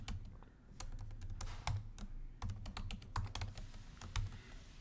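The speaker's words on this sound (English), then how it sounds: "If I can type it correctly." Steady keyboard typing, a run of quick, fairly even keystrokes with a few louder taps, heard up close and alone with a faint low hum beneath.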